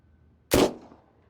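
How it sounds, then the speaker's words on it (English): A single sharp gunshot cracks out in the detective game Unheard: Voices of Crime, one loud close blast with a short fading tail, alone against quiet room tone. "Was that a gunshot?"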